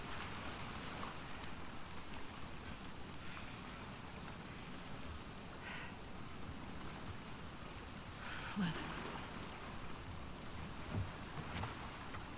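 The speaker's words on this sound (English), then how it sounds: "Get out of the rain." Steady rain falls in The Last of Us Part II, a soft continuous wash of drops on surfaces with a few faint thumps, no talk over it.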